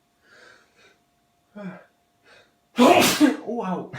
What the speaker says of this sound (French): je vais peut-être éternuer